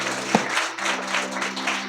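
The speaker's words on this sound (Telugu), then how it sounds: "కొడదమ్మ గట్టి చప్పట్లు" A church congregation applauds during worship, a steady wash of clapping that runs under a preacher's voice and organ-like sustained tones.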